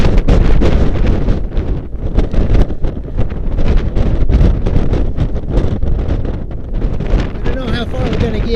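Strong storm wind on Mount Hood batters the microphone in loud, continuous roaring gusts with rustling buffeting throughout, no break in the noise.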